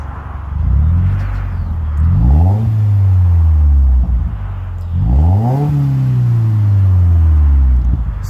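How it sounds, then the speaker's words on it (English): A car with an aftermarket exhaust revs up twice with a deep, throaty exhaust rumble, climbing in pitch and then settling back to a loud idle between revs. "Royce, you want to get in and just give it a little bit of gas for me?"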